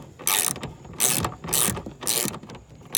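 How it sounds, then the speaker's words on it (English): A ratchet wrench tightens a taillight screw on a 2017 Kia Forte, giving four loud, close bursts of rapid clicking separated by short pauses, with no voices. "Now we're just gonna use the extra amount of torque this wrench provides"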